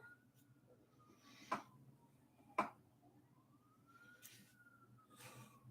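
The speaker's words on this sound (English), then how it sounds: "just mildly concerned for all of the sirens I hear" Emergency vehicle sirens wailing in the distance, a faint rising and falling tone drifting under low room noise with a few sharp nearby knocks.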